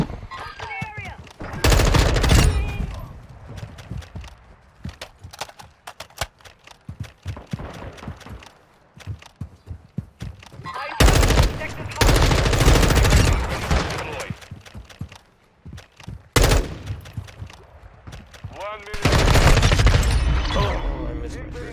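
Bursts of rapid video game gunfire come in several loud volleys, one near the start, others around the middle and at the end, with quieter sharp shots and clatter between them.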